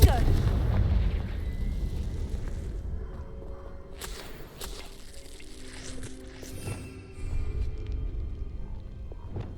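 Confringo blasting spell explosion in Hogwarts Legacy, a deep rumbling boom at the start that decays into a low, grinding roar with scattered crackles and faint tonal effects, followed by a lesser rumble later, with a voice calling out beforehand.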